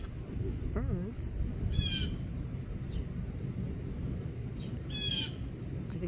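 A blue jay calls near a garden bird feeder, giving a few short, harsh squawks spaced apart over a steady outdoor background hiss.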